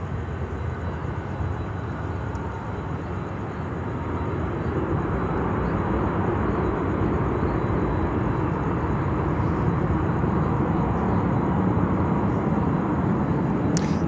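A large aircraft touches down on the runway at Miami airport, a steady broad roar that swells slightly after the first few seconds and holds loud and continuous, with no voices.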